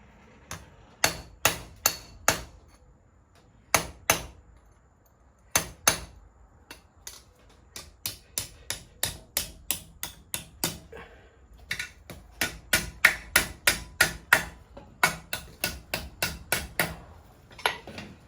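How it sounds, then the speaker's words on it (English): A hammer strikes hot steel on a hot cut while a frizzen spring is forged, sharp ringing blows coming in quick rhythmic bursts of several hits with brief pauses between, clear and close. "Now I'll cut it a little more on the hot cut and fold it back and weld it."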